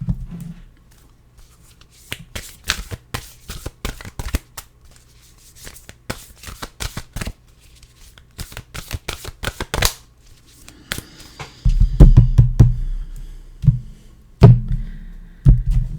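Oracle cards are shuffled by hand in a series of crisp, rapid riffles and taps, close and clear, with a few soft thumps as the deck is handled and settled.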